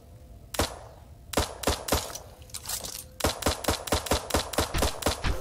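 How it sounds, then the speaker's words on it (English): Auto turret gunfire in the video game Eden Star, firing bursts of rapid sharp shots that settle into a steady, evenly spaced rhythm of loud cracks. "let's just let the auto turret do some work for us here"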